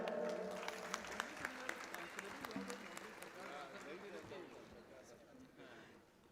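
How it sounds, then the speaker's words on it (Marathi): Loud applause from an audience at a Jallosh 2020 award ceremony, dense clapping that starts strong and slowly fades over several seconds, with voices murmuring underneath. "जोरदार टाळ्या."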